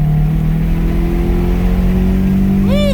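A car engine pulls steadily under acceleration, a loud, close, rising drone with a sharp whining sweep near the end as it shifts gear, heard from inside the cabin.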